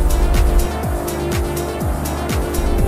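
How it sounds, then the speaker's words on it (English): The turning gear on a ship's main engine hums steadily in a loud engine room. Heavy machinery drones underneath, and a low mechanical whir repeats in a regular rhythm about every half second. "If you take a closer look, you can see the device in motion, turning the engine."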